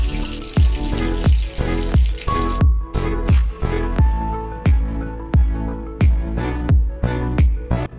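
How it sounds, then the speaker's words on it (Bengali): Pieces of baim eel fish hiss and sizzle in hot oil, with loud spattering bursts and a string of sharp pops and crackles arriving at a fairly regular pace, close up and with no voices. "একে একে দিয়ে দিয়েছি মাছটা আমি ভেজে নেব"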